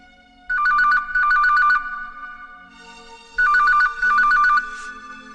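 A phone ringtone chirps in two bursts of rapid repeated tones, a pause, then two more bursts, loud and close with no talk.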